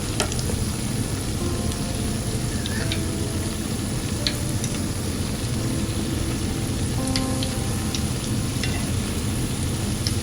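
A batch of doughnuts frying in hot oil and being flipped, an even, dense bubbling sizzle that carries on steadily throughout, with faint light clicks from the turning.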